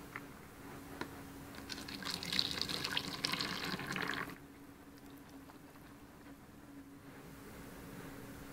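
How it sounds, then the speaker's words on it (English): Epoxy resin pouring into a 5-litre container, a thick, steady liquid stream that builds for a few seconds and then stops, leaving a quiet room. "pour some into this 5-litre container"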